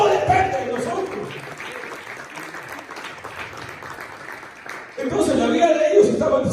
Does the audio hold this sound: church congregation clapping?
yes